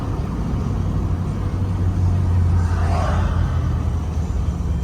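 A 1972 Pontiac GTO Judge tribute pulls in third gear, its engine a steady low rumble with road and wind noise over it, rising a little in the middle before it settles, and no voices.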